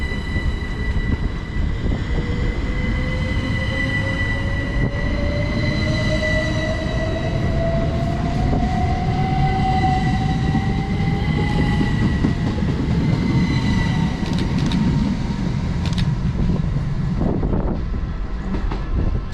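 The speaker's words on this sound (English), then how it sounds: "Great Western Railway service to London Paddington." A Great Western Railway train bound for London Paddington pulls out of a station on the Oxford–Banbury line, its engine droning loudly and steadily as the wheels squeal and clatter with a rising tone.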